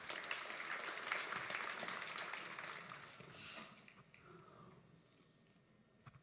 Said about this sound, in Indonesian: boleh tepuk tangan saya